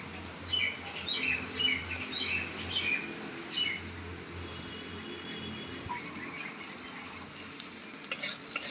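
Fried potato pieces sizzle and are stirred in oil with salt, turmeric and green chillies added, a steady crackling fry with scraping strokes and faint birds chirping in the background.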